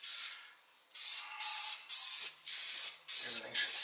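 Spray paint goes on in a heavy coat over 1968 Pontiac GTO front-end parts: a close, steady hiss in seven short bursts with brief gaps, the second gap longer, and no voices.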